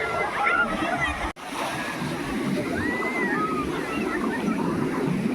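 Sea waves at Puri beach slosh and wash steadily against the shore, a constant rolling surf filling the background while a person talks over it, with a brief dropout midway.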